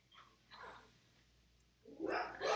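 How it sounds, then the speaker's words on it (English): A dog barking indoors, a few short, moderately loud barks in separate bursts with quiet gaps between them. "We'll just let him bark it out."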